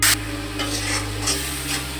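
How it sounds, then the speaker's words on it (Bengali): Spices with ground powder, ginger and salt are stirred and fried with a little water in a pan for dried fish bhuna, giving a steady scraping stir with a soft sizzle and a brief louder burst at the start. "মশলাটা একটু ভাজার পর আমি এর মধ্যে একটু অল্প পানি দিয়ে মশলাটা কষিয়ে নিচ্ছি"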